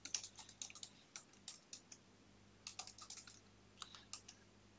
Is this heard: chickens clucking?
no